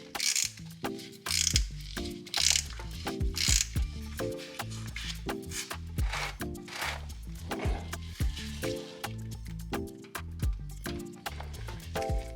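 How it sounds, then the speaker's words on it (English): A ratchet on an extension tightens the oil filter of a Toyota Tacoma, giving a steady series of close, crisp clicking strokes with short metallic rattles between pulls. "I used my extension to tighten it the rest of the way"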